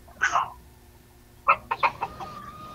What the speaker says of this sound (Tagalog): May manok ka, kuya.